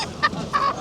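Chickens clucking at a riverside fish market: two short, fairly close clucks about a third of a second apart, with quieter market ambience between and no talk.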